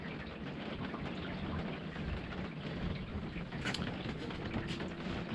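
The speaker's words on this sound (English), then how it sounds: "so the noise you can hear is rain" Steady, dense rain pouring down during a storm, a continuous loud wash of patter with no breaks and no voices.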